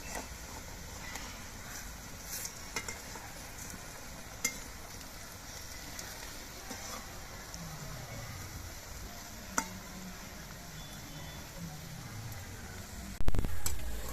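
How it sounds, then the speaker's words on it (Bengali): Radish pakoras fry slowly in oil, a soft steady bubbling sizzle with occasional light ticks from the pan and a louder clatter near the end. "পকোড়াগুলো খুব আস্তে আস্তে জাল দিয়ে নিয়ে ভাজতে হবে"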